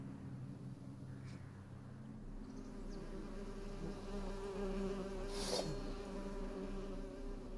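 Bees buzz in The Witcher 3: Hearts of Stone, in the Painted World: a constant low insect drone with a sharper buzz swelling close by partway through.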